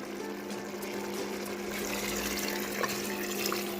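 Water is poured into a pot of spiced goat leg soup before pressure cooking, making a soft, steady splashing and gurgling that runs continuously at a moderate, fairly faint level.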